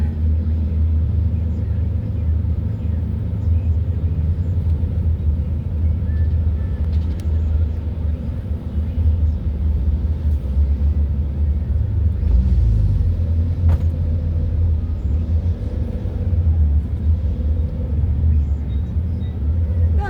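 Dense low rumble of city road traffic on C5 in Pasig, continuous engine drone and tyre noise from nearby vehicles, heard from inside a slowly moving car with occasional swells as others pass.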